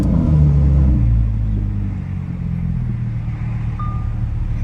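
A 2023 Lamborghini Huracan Sterrato engine fires up with a loud, deep rumble that flares briefly, then settles into a steady, close idle.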